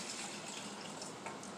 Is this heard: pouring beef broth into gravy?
yes